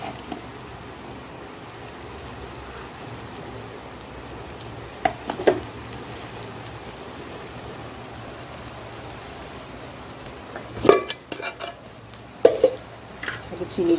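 Onions fried until reddish in a pan with salt and turmeric, giving a quiet continuous sizzle, with a few clattering stirs and knocks toward the end while someone talks.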